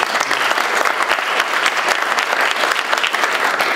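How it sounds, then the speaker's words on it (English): Audience at a talk show event with a vice admiral applauding the anthem and prayer singers, a loud, dense and sustained burst of clapping filling the whole clip with no talk over it. "I just want to give a round of applause for both."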